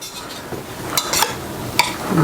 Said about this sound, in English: Stir that in real well.